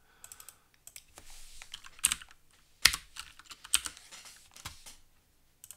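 Close, crisp computer keyboard typing during typing practice, with irregular clusters of key clicks and a few sharper, louder strikes and no talk.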